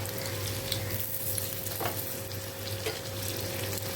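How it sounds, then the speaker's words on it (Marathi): Soya tikki fry in a pan with a steady, soft crackling sizzle and a couple of faint clicks; close and quiet, without any talking. "आता उरलेल्या टिक्की सुद्धा अशाच मी फ्राय करून घेणार आहे."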